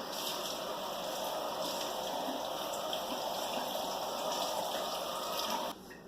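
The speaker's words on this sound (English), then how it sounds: "I'm going to rinse mine with cool water." A steady stream of cool tap water pours over boiled vegetables in a colander, constant and close, then abruptly cuts off near the end.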